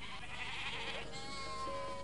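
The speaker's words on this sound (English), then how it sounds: "Nomads herd sheep and goats in the more barren mountainous areas." Goats bleat in the mountains of Kashmir, a wavering nasal call followed by a thinner drawn-out cry, heard faintly over a steady background wash.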